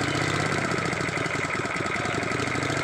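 A Honda GX160 small engine idles steadily after its governor has been adjusted, a close, loud, continuous mechanical chug with an even rhythm and no pauses or voices.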